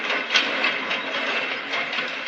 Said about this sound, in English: That is the sound of the presses rolling out the next edition of the British Gazette.